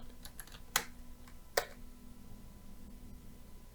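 Someone typing a command on a computer keyboard, a quick run of faint key taps with two sharper, louder keystrokes, then quiet with a low background hum.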